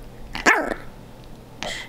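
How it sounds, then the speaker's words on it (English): A dog gives two short, rough growl-barks about a second apart, close by and fairly faint against a quiet background, with no talking. "Why are you growling at me?"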